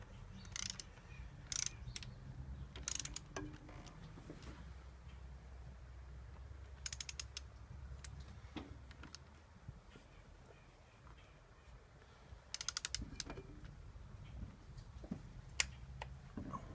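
On a 2002 Mazda Millenia, valve cover bolts are run down with a ratchet, producing quiet scattered clicks and short ratcheting bursts close by in an otherwise hushed garage.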